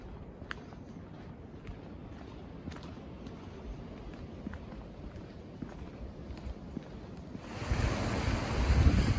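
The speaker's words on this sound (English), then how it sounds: "if you can hear that, yes, that is water" Clear stream water flows steadily on a hiking trail at Graveyard Fields in North Carolina, a continuous soft rushing with wind in the microphone that swells louder in the last couple of seconds.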